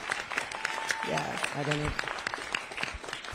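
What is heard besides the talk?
audience applause for the forum speakers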